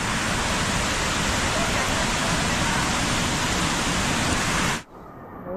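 A huge waterfall roars as a dense, constant rush of water, loud and unbroken for several seconds before cutting off abruptly near the end.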